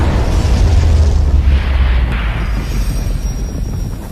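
A huge, booming explosion in an animated Chinese donghua battle, with a deep rumbling low end that rolls on and slowly fades, with no talking.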